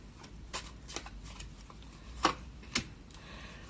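Tarot cards are shuffled and drawn by hand during a reading, with soft papery riffles and a few sharper snaps and slaps spaced irregularly, close and quiet.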